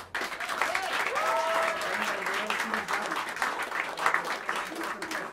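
Crowd clapping in the small Smalls jazz club after a quartet performance, a sustained burst of applause that swells and dips, while someone talks over the noise.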